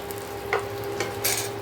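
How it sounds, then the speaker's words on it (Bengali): Mango chutney boiling in a pot, a steady low simmer with a few distinct bubbling pops and light stirring scrapes, fairly close and moderate in volume. "দেখুন এই যে টকবক করে ফুটছে, এরকম টকবক করে ফুটবে"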